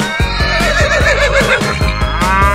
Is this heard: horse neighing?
yes